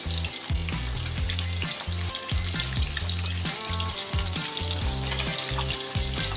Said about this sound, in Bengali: এই মাছ কিন্তু খুব বেশি কড়া করে ভাজবো না